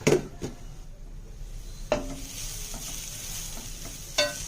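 Grated carrots fry in ghee in a pan for carrot halwa, giving a steady close sizzle broken by a few sharp spoon clanks and scrapes against the pan, with no voices.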